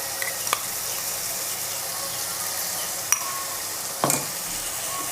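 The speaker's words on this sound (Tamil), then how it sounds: "நல்லா வதக்கிக்கலாம்." Ginger garlic paste sautéing in a pan with curry leaves for egg kuzhambu, a steady close sizzle broken by a few sharp stirring clinks against the pan.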